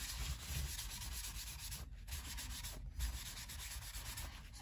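Oil being rubbed by hand into a dry wooden fretboard on a Harley Benton HB PB-20 bass guitar, a close, steady back-and-forth rubbing with two brief pauses.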